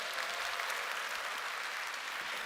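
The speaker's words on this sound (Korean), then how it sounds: "다시 한번 박수 주실까요?" Audience applause at a Korean product presentation, a soft, steady wash of clapping heard from some distance, continuous and even for the whole stretch.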